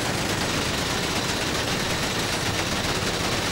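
Heavy automatic gunfire rakes a tank in GTA V, a dense, relentless rattle of shots that stays loud and unbroken throughout.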